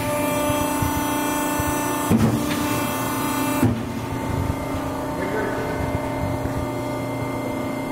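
An LVD hydraulic shear, model HSTC 25/10 rated 10 feet by 1/4 inch, hums loudly and steadily, and two sharp clunks mark the dry cut strokes.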